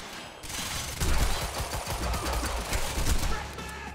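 Heavy automatic gunfire in Quantum Break, a loud continuous stream of rapid shots close by, with a voice faintly underneath.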